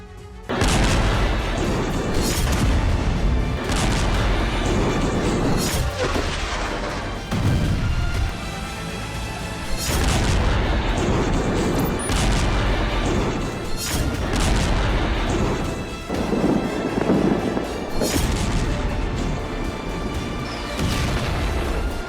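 Heavy booms and blasts from the Israel-Hamas war in Gaza go off one after another, loud and dense, with crashing impacts layered over a constant rumbling roar.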